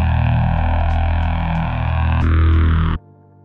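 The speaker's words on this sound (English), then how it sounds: "Play the lightsaber hum cue." A lightsaber hum sound effect in Unreal Engine 5: a loud, steady, buzzing electric drone with a rich low end that holds for about three seconds, then cuts off abruptly into a much quieter residual hum.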